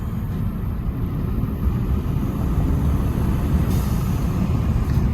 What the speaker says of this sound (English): who doesn't love a little bit of turbo noise?